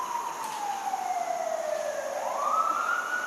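A single emergency vehicle siren wails steadily nearby, its tone sliding down and then sweeping back up, heard alone over faint outdoor background.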